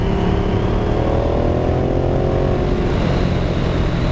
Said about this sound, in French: quand tu accélères et tout, ça fait un beau petit bruit